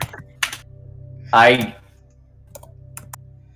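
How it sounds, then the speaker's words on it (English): Aggressive typing on a computer keyboard: a few sharp, isolated key clicks spaced through the clip, with a brief spoken sound partway through. "feel like you're aggressively typing right now"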